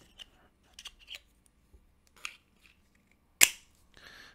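A Ledlenser P7R flashlight clicking into a plastic belt holster gives a few faint plastic rustles and taps, then one sharp, close snap near the end.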